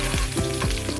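Mustard seeds sizzle and pop in hot coconut oil for a bitter gourd tamarind curry, a close, continuous frying crackle with a few sharper bursts.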